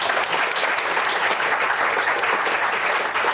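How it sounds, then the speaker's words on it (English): Audience applause after a panel on start-ups and venture capital funding, a dense, loud, sustained wash of clapping from a full room that holds evenly throughout. "I think they deserve one more round of applause"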